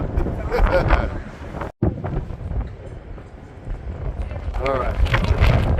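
Strong wind gusts buffet the microphone at a high mountain cable-car station in Switzerland, a loud rumbling roar that swells and dips throughout, with a person talking over it.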